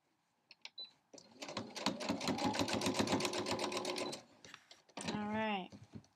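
A sewing machine runs a quick burst of stitching to sew fabric shreds off the edge of a scrappy quilt block, a fast steady mechanical rattle lasting about three seconds, with a few clicks before and a brief whirring run afterwards.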